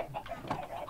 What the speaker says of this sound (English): There's a lot of chickens up here now.